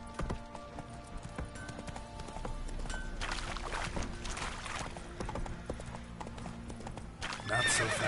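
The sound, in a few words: horse Roach galloping, from video game The Witcher 3 Wild Hunt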